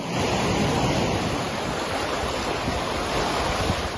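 Floodwater rushes after heavy rain in the Kurbin and Mamuras area, a loud, continuous broadband roar that stays steady and close throughout with no voices.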